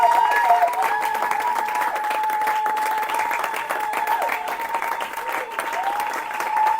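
A church congregation at a worship service applauds and acclaims steadily, a dense wash of clapping under a sustained tonal background, with faint voices blended in throughout.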